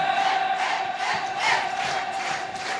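A church revival congregation roars and cheers together, a dense sustained crowd shout with rising and falling swells, loud and continuous without distinct individual words.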